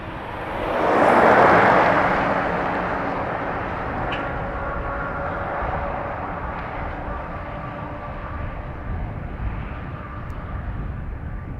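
A Ryanair airliner bound for Faro sits lined up on a Dublin Airport runway, its engines a steady distant rumble that swells briefly early on, then holds evenly, with no talking.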